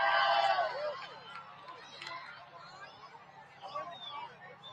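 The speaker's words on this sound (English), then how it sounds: "Listen to this crowd in Indianapolis." A crowd cheers during a solar eclipse in Indianapolis, a burst of distant voices and shrieks swelling at the start, then settling into scattered cheering and babble.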